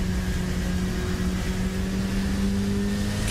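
A race car engine warming up in a sim racing endurance event on a Texas circuit, a steady droning hum with a sustained tonal whine, held at an even level throughout.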